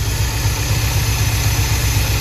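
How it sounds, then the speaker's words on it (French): A Mercedes 190E engine idles roughly with a shake, giving a loud, steady, close rumble and hum that holds throughout with no one speaking. "Vous voyez, le moteur tremble."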